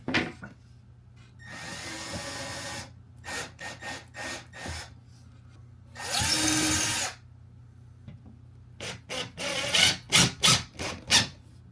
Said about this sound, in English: Stud, got a drill right here.